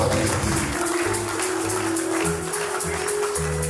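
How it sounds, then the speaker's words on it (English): A church congregation at an annual thanksgiving harvest service claps together in steady, dense applause lasting a few seconds, with sustained keyboard or organ tones running underneath. "And let's clap for Jesus."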